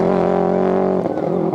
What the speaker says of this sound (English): He's now running on 3 cylinders, but the limping engine is the least of his problems.